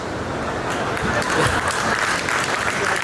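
An audience at a Durga Puja festival event claps together in sustained, fairly close applause lasting the full few seconds, with a voice faintly audible underneath.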